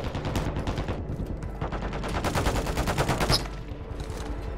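Rapid bursts of automatic gunfire in a Call of Duty battle, with clustered shots in fast rhythmic volleys, fairly loud and close, and no talk over them.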